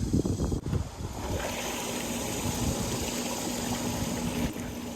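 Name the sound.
pool pump running with water flowing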